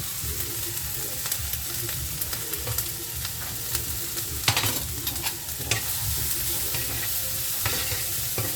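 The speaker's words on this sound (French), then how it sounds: "Voilà, on laisse bien griller l'oignon comme ça." Onion fries and browns in a pan, a steady close sizzle running throughout with repeated scraping stirs and a sharper clatter midway, no one speaking.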